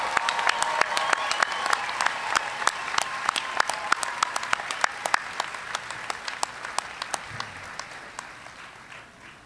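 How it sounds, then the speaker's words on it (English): Sustained applause from a commencement audience honoring master's degree graduates at a university ceremony, dense clapping that gradually fades toward the end with no talking over it. "Let's have one more round of applause for our master's degree students."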